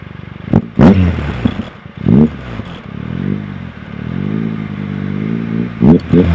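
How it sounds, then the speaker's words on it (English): A Triumph Tiger 800 motorcycle on its stock exhaust revs close by in several sharp throttle blips, each rising and falling, with a steadier, held rev in the middle and no talking. "Triumph Tiger 800 stock exhaust."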